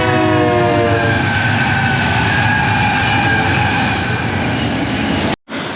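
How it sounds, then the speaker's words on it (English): A passing train near a rental property: a loud, continuous rail rumble and clatter with a sustained horn blast at the start, cutting off abruptly just before the end. "Oh, here's a train."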